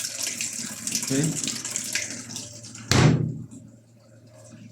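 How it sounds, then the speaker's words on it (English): Water gushes into a washing machine tub, running steadily and close before a sharp clunk and a fade to quieter trickling; someone speaks briefly over it. "you start the wash machine and put a little of some water inside"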